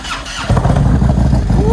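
A Harley-Davidson CVO motorcycle, started for the first time in months after a new battery, cranks briefly and then fires into a loud, deep, throbbing idle through loud aftermarket pipes, close and dominant.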